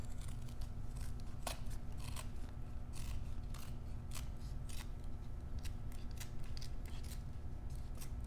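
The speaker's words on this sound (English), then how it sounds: "Now I'm going to go ahead and cut another one, same size for the inside." Scissors snip through bounce house patch material, giving a run of quick, crisp cuts in an uneven rhythm, close and fairly clear over a steady low hum.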